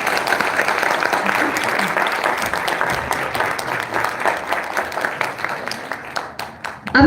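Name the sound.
audience applause in an auditorium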